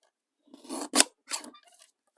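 Scissors trim the sides of handmade postal-themed paper ephemera built from book pages, giving two or three quick, close, crisp snips in a quiet room.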